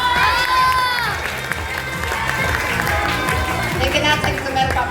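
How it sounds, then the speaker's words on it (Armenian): A room of young children at a New Year's party claps and cheers loudly together, a lively continuous burst of applause with shrill voices calling out over it. "Բարձր եկեք ծափահարեք։"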